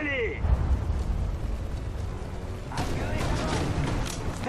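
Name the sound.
smoke grenades going off in the video game Sudden Strike 4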